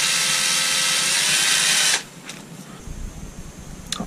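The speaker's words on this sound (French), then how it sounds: "la perceuse." A power drill with a wood drill bit boring into a wooden or cork rod handle part, a loud steady high whirring run for two seconds that stops abruptly, followed by quieter handling clatter and a couple of clicks.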